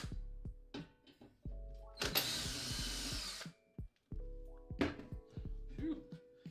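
A power drill whirs in bursts during a datacenter install, with a long high-speed run in the middle and shorter stop-start pulses before and after, close and fairly quiet overall.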